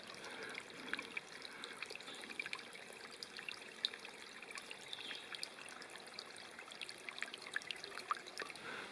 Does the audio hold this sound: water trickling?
yes